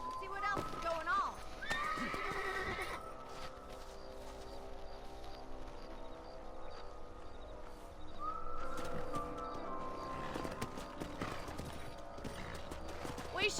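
Horses in the Western video game Red Dead Redemption whinny and neigh repeatedly, with steady clip-clopping hooves and game music running throughout, loud and close.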